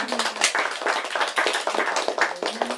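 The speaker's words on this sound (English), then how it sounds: "Can we get another round of applause?" An audience at a poetry reading in a bookstore gives a short round of applause, dense overlapping hand claps at close range, lively and sustained throughout.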